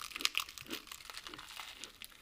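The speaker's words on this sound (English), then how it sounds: "Listen to the crunch." Someone takes a crunchy bite of Old Bay seasoned food at Bubba's Place in Newburg, Maryland, giving a close, quiet run of crisp crackling and crinkling crunches with no talking.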